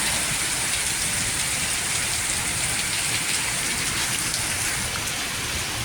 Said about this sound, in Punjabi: ਪੂਰੀ ਤੇਜ਼ ਜਿਹੜੀ ਉਹ ਬਰਸਾਤ ਹੋ ਰਹੀ ਆ